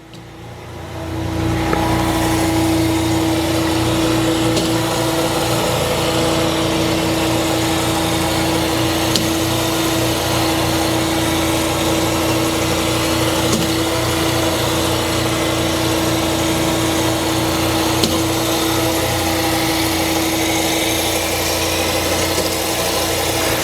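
A Swisher vertical spindle stationary table grinder runs steadily with a constant mechanical hum and a strong tonal whine, starting up in the first seconds and holding an even, loud drone through repeated passes with no talking.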